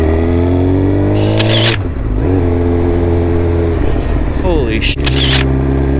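Suzuki GSX-R1000 motorcycle fitted with an M4 MC-36 full exhaust revs loud and close, its engine note climbing and dropping through repeated throttle blips, with a man exclaiming over it.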